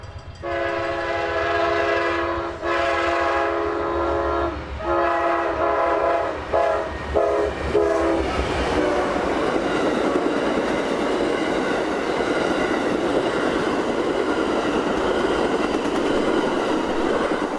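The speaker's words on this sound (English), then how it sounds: "the first customer of the morning would be Amtrak 91 rolling south through town, not a minute late." Amtrak 91 passenger train passes southbound through downtown Auburndale, Florida, its horn blaring in long sustained blasts before giving way to the loud, steady roar and rumble of the cars rolling by close.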